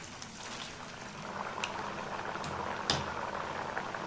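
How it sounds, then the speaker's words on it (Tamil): Rice murukku made from parboiled rice fries in hot oil, giving a continuous bubbling crackle with scattered small pops and one sharper spit, steady and close with no talking. "இதே மாதிரி எல்லா முறுக்கையும் நான் எண்ணெயில் போட்டு பொரித்து நான் உங்களுக்கு கடைசியில் காட்டுறேன்."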